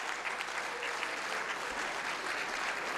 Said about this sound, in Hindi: आप सब की तालियों की गूंज में मैं इकबाल अशर साहब